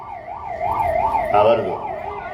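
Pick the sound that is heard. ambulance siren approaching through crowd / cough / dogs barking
ambulance siren approaching through crowd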